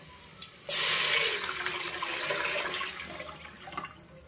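Water is poured from a glass into a cooking pot for bagara rice: a sudden gush that settles into a steady rushing stream, fairly close, with no voices.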